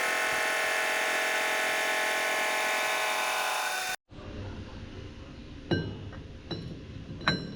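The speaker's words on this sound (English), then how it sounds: "Now I want to machine these down so it will fit inside the chuck here" A metal lathe machines dirt bike parts, giving a steady, whining tonal hum for about four seconds before cutting out. A quieter workshop background follows, broken by a few sharp metallic clinks.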